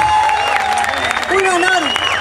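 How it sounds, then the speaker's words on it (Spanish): Audience at a cumbia anniversary concert in General Roca applauding the band's bassist, with steady clapping and crowd noise mixed under live music. "un aplauso, maestro"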